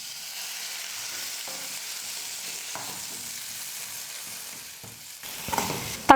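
Cut tomato sautéing in hot oil for Tamil ennai kathirikai brinjal gravy, a steady soft sizzle with occasional spoon scrapes and a sharper clatter near the end, no talking.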